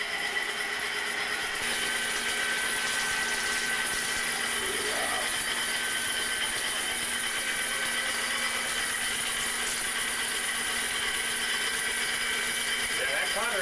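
A drain cleaning machine spins its cutter inside a pipe clogged with tree roots, giving a steady, loud mechanical whir and grind that carries on without a break, with a few faint knocks and scrapes over it.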